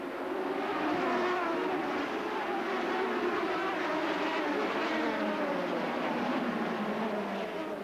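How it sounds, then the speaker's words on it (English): Race cars accelerate at the start of a European Le Mans Series race at Monza, a dense roar of engines rising and sweeping in pitch and staying loud and continuous throughout. "Shimoda finally decides to increase power, and the race is on."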